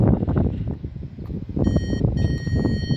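Circuit tester on a Hyundai's coil wiring giving a steady high electronic beep for a positive reading, a thin tone running over louder background rumble and clatter.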